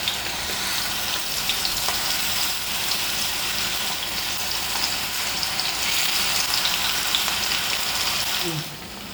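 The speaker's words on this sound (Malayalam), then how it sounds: "ചിക്കൻ ഫ്രൈ ആയി വന്നിട്ടുണ്ട്." Marinated chicken pieces deep frying in hot oil, a dense, even sizzle and bubbling that carries on steadily and then drops off near the end, with faint voices in the background.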